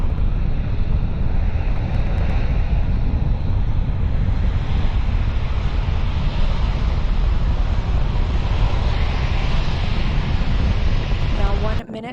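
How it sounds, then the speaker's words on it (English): The four core stage engines of NASA's SLS rocket roar at maximum thrust during the Artemis 1 launch, a loud, unbroken wall of rumbling noise that holds steady for about twelve seconds before cutting away at the end. "The 4 core stage engines are back at maximum thrust."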